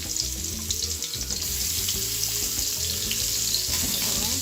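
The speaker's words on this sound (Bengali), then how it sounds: "তেলটা গরম হয়ে গেছে, এখন আমি চিংড়ি মাছগুলো দিয়ে দিচ্ছি" Shrimp frying in hot oil, a loud, dense, continuous sizzle and crackle that holds steady from start to finish with no talking.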